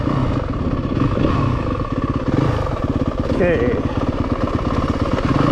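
Yamaha WR250F dirt bike engine, 2026 model, revving wide open and climbing through the gears with a rapid pulsing exhaust beat up close, while someone briefly talks over it.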